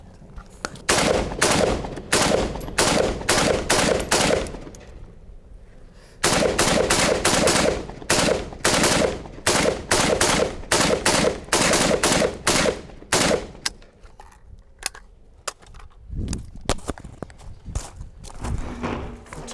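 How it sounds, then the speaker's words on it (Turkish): Close, loud automatic gunfire in long rapid bursts as a full magazine is emptied, with one brief pause before firing resumes, then sparse shots and clatter tapering off at the end. "Bu şarjörü full seri bitirmeni istiyorum."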